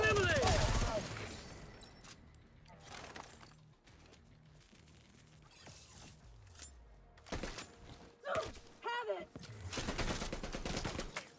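Bursts of gunfire in a sci-fi shooter game during PvE play, a heavy volley at the start and scattered shots later, with a player talking over the action.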